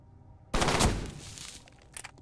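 Burst rifle in F.E.A.R., a single loud close burst of rapid shots that rings out and decays over about a second, with a faint clatter afterward.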